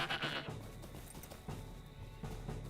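Goats bleating in the video game Lord of the Rings Online, a few nasal bleats close by over a steady ambient game background.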